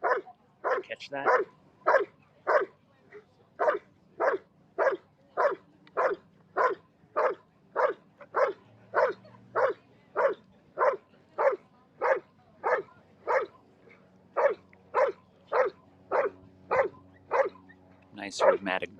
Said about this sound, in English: Nice rhythmic barking here.